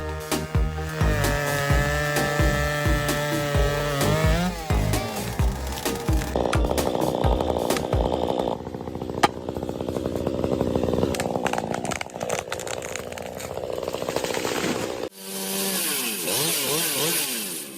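A chainsaw cuts through a tree during felling, its engine snarling loud and close with shifting pitch as it works through the wood, then dropping away into a changed, revving tone near the end.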